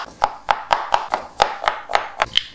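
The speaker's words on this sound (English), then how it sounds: "we're gonna start chopping the leeks" Crisp knife chops through leeks on a cutting board, about ten sharp evenly spaced strikes in a steady rhythm, close and clear with no talking.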